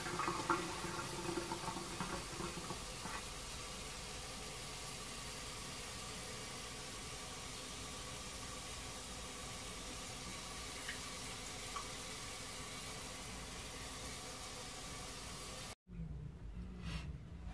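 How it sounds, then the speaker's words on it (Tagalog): Tap water pouring into a pot to wash a pork leg for boiled pork with cassava, a steady faint rushing stream that runs throughout and cuts off near the end. "hugasan na natin siya at lagyan na natin ng, ano, ng tubig"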